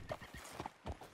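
A horse in the video game Red Dead Redemption 2 walks with soft, faint clip-clop hoofbeats in an uneven rhythm, heard alone without talk.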